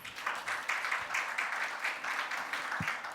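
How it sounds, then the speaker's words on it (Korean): Audience applause welcoming a contestant to the stage at a startup pitch competition final round, a steady wash of clapping lasting a few seconds, moderately loud and even, with no voices over it. "이번 도전자는 박수를 보내주시고"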